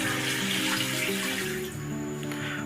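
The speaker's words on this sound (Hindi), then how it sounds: "और इसमें 1 लीटर पानी जाएगा" Water pours into a pressure cooker holding mutton, a brief, close, continuous splashing stream with a rising ringing tone as the pot fills.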